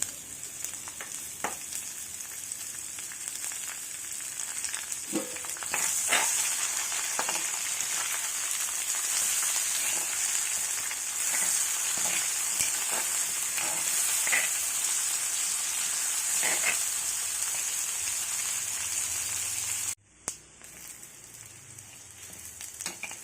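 Onion pieces frying in oil with mustard seeds, a continuous close hiss of sizzling with scattered small pops and occasional stirring scrapes, broken by a brief cut near the end.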